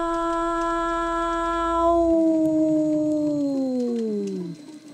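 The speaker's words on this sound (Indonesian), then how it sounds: "suara lolongan panjang yang membuat bulu kuduk berdiri tegak" A long, eerie howl rises at night near a village guard post, holding a steady tone before sliding downward in pitch and fading out after several seconds, loud and alone.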